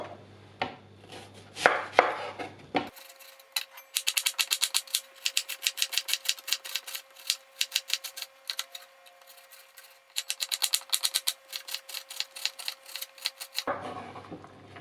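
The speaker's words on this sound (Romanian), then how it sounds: "Începem prin a toca ceapa mărunt." A knife finely chopping an onion on a board, rapid crisp taps in quick bursts separated by short pauses, close and clear, after a few opening rustles.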